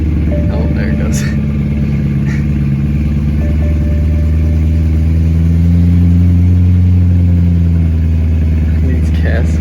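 A BMW E90 M3 engine runs loud and steady after a spring start-up, its deep rumble swelling into a rev near the middle before settling, close by with a person talking over it.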